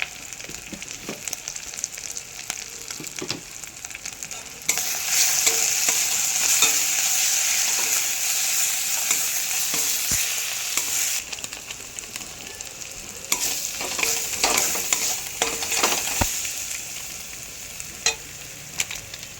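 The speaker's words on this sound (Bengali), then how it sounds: "মশলাটাকে ভালো করে কষিয়ে নেব" Spice masala with turmeric, hot chilli powder and Kashmiri chilli powder sizzles in a pan while being stirred, a steady hiss that swells louder midway with scraping strokes of the spoon and no talking.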